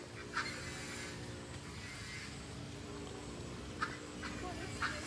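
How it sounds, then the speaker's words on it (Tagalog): Several ducks or young ducklings give a few scattered, faint calls over a steady outdoor hum, with quiet talking nearby. "This is ducklings"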